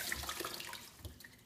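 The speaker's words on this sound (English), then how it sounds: "You're going to take your chicken breasts and you're going to rinse them under water" Tap water runs over a raw chicken breast being rinsed in a sink, a soft close splashing stream that fades slightly toward the end.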